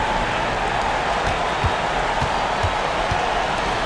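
Dense, steady roar of a home arena crowd in an NBA 2K26 basketball game, continuous cheering and noise with faint ball bounces or squeaks underneath.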